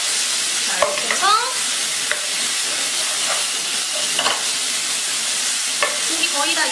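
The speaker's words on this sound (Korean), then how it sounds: "고기 익혀주세요. 고기가 충분히 익을 수 있게 그리고 간장의 밑간이 고기에 배일 수 있게 볶아주세요." Meat stir-frying with soy sauce in a hot pan, a loud continuous sizzle and hiss close up, punctuated by occasional scrapes and clanks of a utensil stirring.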